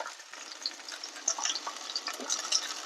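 Vegetables such as green peas, carrot and French beans stir-fried in a pan, a fine crackling sizzle with scattered pops and light scraping throughout.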